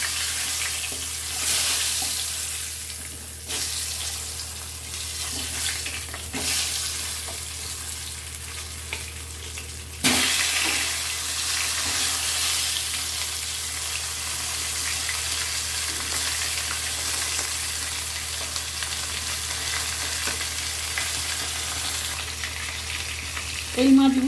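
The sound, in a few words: koi fish frying in a pan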